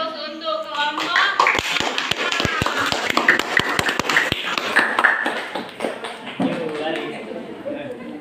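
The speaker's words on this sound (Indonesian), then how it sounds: "Beri aplaus untuk kelompok." A group of people claps and taps in a classroom-style setting, a burst of sharp overlapping hand claps lasting several seconds, with chatter and voices mixed in throughout.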